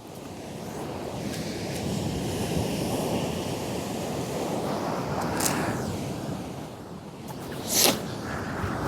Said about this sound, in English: Some big waves coming in now.